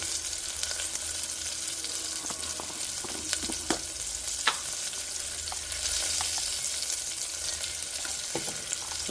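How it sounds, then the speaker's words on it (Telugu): Small onions frying in a pan with turmeric give a steady, soft sizzle throughout, with occasional faint clicks and scrapes of stirring at close range and no voices. "చిన్న ఉల్లిగడ్డలు అయితే వేగాలి"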